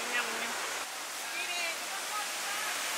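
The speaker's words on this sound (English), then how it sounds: "This is the Jeongbang waterfall." Jeongbang waterfall on Jeju Island, a constant broad hiss of falling water, steady and fairly close, with faint tonal chirps above it.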